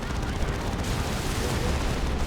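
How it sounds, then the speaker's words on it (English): Dense, continuous rumbling gunfire and explosions from a 3v3 Dawn of War 2 Retribution battle, including tank cannons and heavy bolters, roar loudly without a break across the short stretch. "tons and tons of fire pouring into him"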